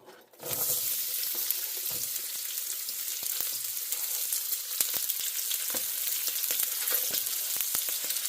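Onion hitting hot oil for a stir-fry, bursting into a loud, dense, continuous sizzle after a brief quiet start, with occasional spatula taps against the pan.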